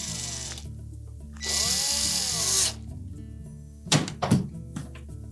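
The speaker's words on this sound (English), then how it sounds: "We'll reinstall the mounting screws." A power screwdriver whirs briefly while driving mounting screws into a GE range control panel, followed by a few hard knocks and rattles of metal, close by and with no voices.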